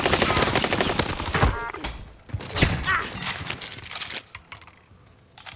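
Rapid bursts of automatic gunfire in Call of Duty Warzone on Rebirth Island, loud and close, with dense rattling volleys that break off and resume in shorter bursts.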